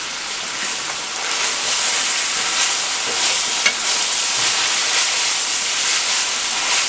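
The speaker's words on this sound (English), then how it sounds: "I'm gonna keep stirring this till it get all the way brown" Ground meat for sloppy joes sizzles loudly while browning in a pan, a dense continuous frying hiss with the soft scrape of a spoon stirring through it.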